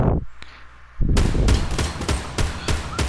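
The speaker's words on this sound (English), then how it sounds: "Yeah, I'm shooting him." Gunfire in the Fortnite video game: after a short lull, a rapid burst of loud, sharp shots cracks out in uneven bursts, close and dominant.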